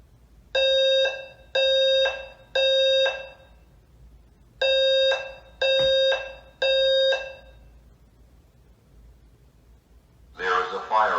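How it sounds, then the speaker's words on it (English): A school building's fire alarm sounds in two sets of three long, loud buzzing tones with short gaps between, followed by the start of a recorded announcement voice. "The fire alarm sound that I use in this video is in fact a recording of the fire alarm going off in my senior year building"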